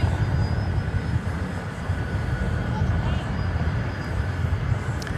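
An airplane takes off at DFW Airport: a continuous, fairly loud jet roar, broad and steady throughout, with a faint high whine running above it.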